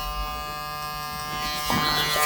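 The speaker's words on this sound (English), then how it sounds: "Finish off just a little bit of clipper over comb through the corners here." An electric hair clipper buzzes steadily while cutting hair clipper over comb during a buzz cut, the hum close and moderately loud, with faint brushing noises near the end.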